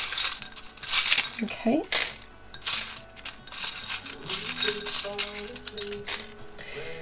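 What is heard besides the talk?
letter tiles pulled out of a bowl for tarot reading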